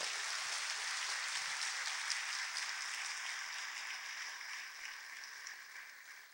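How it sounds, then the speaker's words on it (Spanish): A church congregation claps for the Lord during a sermon: dense, sustained applause from many hands that holds steady for several seconds, then eases slightly toward the end, with no voices above it. "¿Alguien le da el aplauso al Señor de verdad?"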